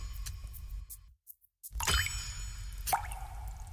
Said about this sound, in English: Why is there lots of water sound?